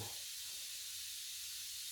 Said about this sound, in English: I'll spray a bit of it on there